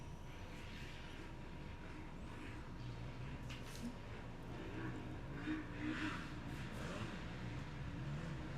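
Race cars at the Casterton Sandstorm off-road round, with engines droning and rising at a distance under a steady wash of crowd and outdoor noise, rather faint and continuous, no talking.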